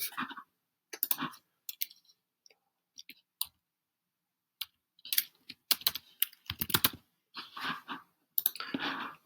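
Fingers typing on a computer keyboard, quiet close clicks in irregular bursts separated by short silences, with a faster flurry of keystrokes toward the end.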